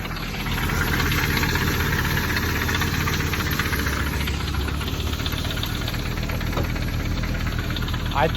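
Audi S2 car engine idling with a top-end lifter fault, a steady low rumble carrying a fast, even ticking knock throughout, close up, with a person talking over it.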